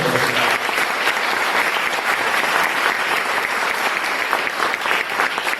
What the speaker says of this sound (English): give a round of applause for Jacob Kittle.